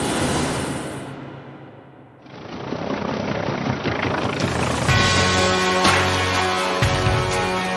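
Helicopter engine and rotor noise runs steadily and loudly throughout, dipping briefly near the start before a dense, continuous whine and rumble with rhythmic harmonic bands takes over.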